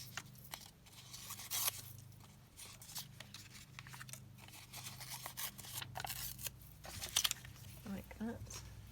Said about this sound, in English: we could just layer that maybe onto a bit of book page or something. So again, I'll just tear a little bit down.